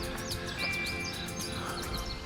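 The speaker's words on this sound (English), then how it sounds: "Hear the birds." Birds chirp outdoors at a fishing campsite, quick high tweets and a sustained whistle repeating over a faint steady background, fairly distant and soft.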